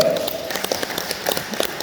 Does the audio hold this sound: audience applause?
yes